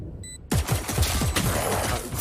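Rapid bursts of gunfire ring out in a competitive shooter video game match, after a brief high electronic tone. The loud, repeated shots follow each other in quick succession.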